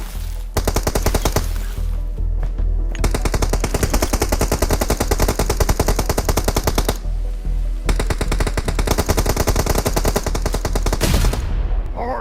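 Gunfire from a gun in the mobile shooter game BGMI: loud, rapid automatic bursts that rattle on for several seconds, broken by two short pauses, with no talking over them.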